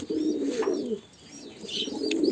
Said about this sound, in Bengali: অনেক মোটামুটি কবুতর আছে তো ভাই।